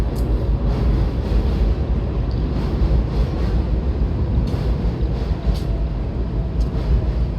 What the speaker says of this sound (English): I can hear the Flushing train on the other side.